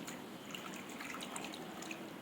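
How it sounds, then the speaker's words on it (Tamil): Water poured over dried anchovy fish to rinse them, a steady soft splashing trickle running throughout at close range. "இப்போது மறுபடியும் தண்ணி ஊற்றி நல்லா வாஷ் பண்ணி எடுத்துக்கலாம்."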